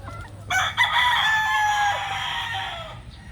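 A rooster crows loudly and close in a backyard poultry yard keeping native chickens and mixed gamefowl bloodlines, one long drawn-out call over low background clucking and farm noise.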